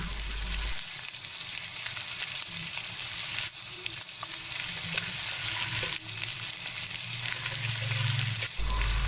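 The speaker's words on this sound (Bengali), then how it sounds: "এভাবে নেড়েচেড়ে কিছুক্ষণ কষিয়ে নিচ্ছে যার ফলে শুটকির গন্ধটা দূর হয়ে যাবে" Dried loitta fish frying with red chilli powder, turmeric and salt, a constant loud sizzle with scraping stirs throughout and a few clinks.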